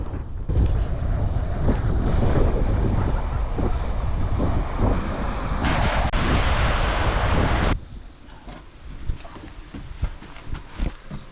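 Cold wind gusts in at a Scottish beach, a loud, steady roar of buffeting air over the microphone that swells around six seconds, then drops to a quieter, gusty rush for the last few seconds.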